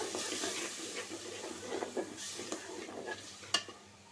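Ground coriander and turmeric sauté with a fish head in a pan, giving a quiet sizzle broken by intermittent scraping stirs and one sharper clack near the end.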